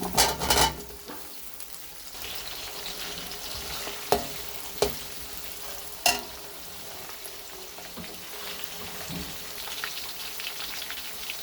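Continuous sizzling of onions frying in a pan until light brown, with a few sharp knocks of a utensil against the pan; no one speaks.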